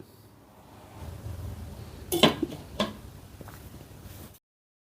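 A metal lid set onto a pot of okra masala curry on the stove gives a couple of short clinks and clatters, close and moderately loud over a faint background hum.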